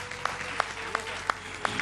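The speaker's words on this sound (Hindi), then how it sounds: "जोरदार तालियों में हम वेलकम करेंगे" Studio audience applause welcoming a guest on a television iftar show, steady clapping with a few sharp, louder claps standing out at regular intervals.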